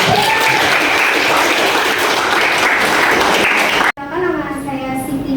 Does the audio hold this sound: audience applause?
yes